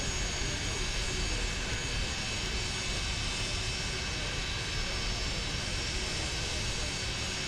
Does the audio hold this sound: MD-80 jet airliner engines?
yes